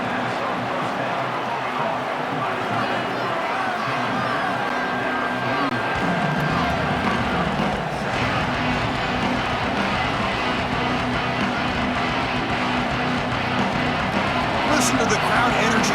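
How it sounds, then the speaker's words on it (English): A stadium crowd roars continuously in the College Football 27 video game during Texas versus Ohio State, a steady dense hubbub under an announcer's running commentary. "Listen to the crowd energy here in the early going."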